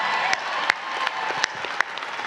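An audience claps together in a room, a dense steady spatter of many hands held at an even level with a few louder sharp claps standing out.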